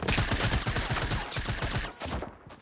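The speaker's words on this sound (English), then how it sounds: "Oh, I hear a shotgun already" Rapid, loud shotgun blasts from a Fortnite Battle Royale match, fired in a steady rhythmic string for about two seconds before trailing off into quieter action, with no talking.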